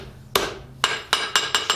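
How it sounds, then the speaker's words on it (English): A hammer strikes steel while forging bevels on a blade, landing five sharp ringing blows, the first two spaced apart and the last three in quicker rhythm, each clang close and loud with a brief metallic decay. "you will not be able to forge anymore unless you use the proper hammering techniques"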